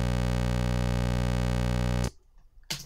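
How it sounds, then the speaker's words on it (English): A square wave from a Moog Mother-32 analog synthesizer sounds as a steady, loud, buzzy sustained tone rich in harmonics for about two seconds, then cuts off abruptly into near silence before a brief noise burst at the end. "And then we're going to go and move on to the square wave."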